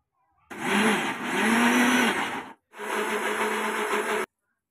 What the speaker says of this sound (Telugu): దాంట్లోకి అల్లం, లవంగాలు, యాలకులు, దాల్చిన చెక్క అనేసి మిక్స్ పెట్టుకోవాలి.